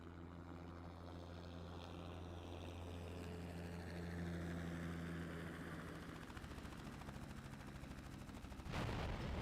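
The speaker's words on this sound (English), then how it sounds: "helicopter crashed" A helicopter crashes in a Sega Dreamcast video game: a steady droning rotor hum with crackling noise builds, then breaks off into a sudden burst near the end.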